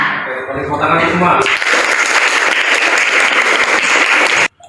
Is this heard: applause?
yes